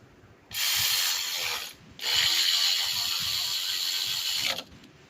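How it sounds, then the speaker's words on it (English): Two long, steady clicking runs of a ratchet tightening alternator bolts on a 2008 Honda Accord, close up and loud, separated by a brief pause, with no talking. "just that one bolt at the bottom of the alternator is a 14, and the other bolts up top is 12. Tighten them up,"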